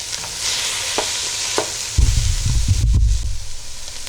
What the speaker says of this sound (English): Make sure to stir it in well, and you will cook this for 2 minutes or until the tomato paste covers the vegetables.